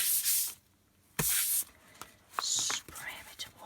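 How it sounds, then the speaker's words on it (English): Quick hissing bursts of a water spray bottle misting paper for painting, two short close sprays followed by softer wiping and handling sounds. "Spray a bit of water."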